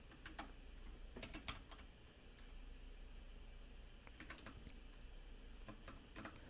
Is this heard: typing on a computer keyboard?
yes